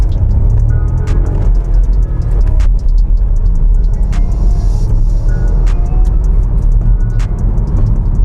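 Skoda Karoq 1.0 TSI engine pulling away under acceleration, a steady loud low rumble from inside the cabin with no talking.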